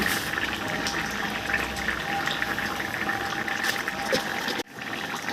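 Shukto with bori, Bengali lentil dumplings, bubbles and simmers in a pot, a continuous close boiling burble with small pops and one brief dip near the end.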